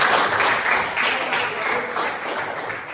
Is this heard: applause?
yes